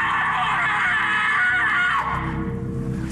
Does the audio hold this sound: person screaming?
yes